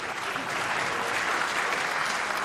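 An audience at the Conservative Party Conference breaks into loud, dense applause and cheering, a continuous wash of clapping that holds steady throughout the short burst.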